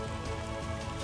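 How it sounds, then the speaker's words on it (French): Steady rain patters on a surface during a bicycle trip, close and continuous, with no other sounds. "Eh bien il pleut."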